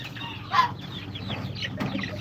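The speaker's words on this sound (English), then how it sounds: "Funky chickens in there with mohawks and stuff." Chickens with crested, mohawk-like heads clucking in a backyard coop, a steady low murmur of clucks and chatter with one louder squawk, close and continuous.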